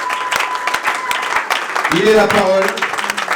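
Church congregation applauding and cheering during a Congolese worship service, a dense burst of clapping mixed with voices, while a preacher speaks over it.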